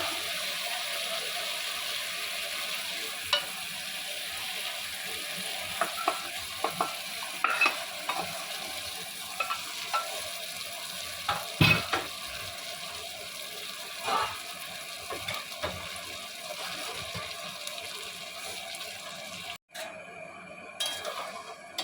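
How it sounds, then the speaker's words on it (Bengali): Boiled fried moong dal is stirred into a spiced mixture in a frying pan, a soft background sizzle broken by irregular scraping and clinking strokes of the spoon, close and moderately quiet. "যে সেদ্ধ ডালটা ছিল ভাজা মুগ ডালটা সেদ্ধ ডালটা দিয়ে আবার একটু নাড়াচাড়া করে নিলাম"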